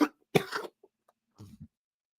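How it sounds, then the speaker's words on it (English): A man coughs a few times at close range, a loud harsh burst followed by a couple of quieter coughs, with short pauses between and no talking. "That's just my, normal coughing that happens every day."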